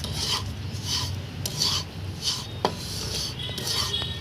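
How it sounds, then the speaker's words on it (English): Coarse poha powder roasts in ghee in a pan, stirred with a spatula that scrapes in rhythmic strokes about every half second, close and clear over a steady low sizzle, with one sharp clink of metal. "Now I'm going to just roast this in the ghee for 2 to 3 minutes."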